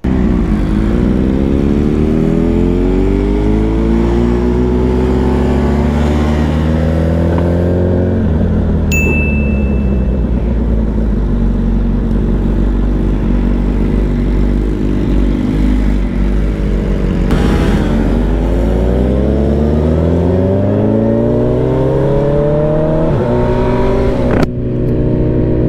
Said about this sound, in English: I got Dvon, his M1000RR. And we're almost at the venue